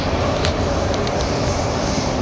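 Singapore MRT metro train heard from inside or on the platform, a steady loud rumble and rolling hum that runs without a break, with no voices.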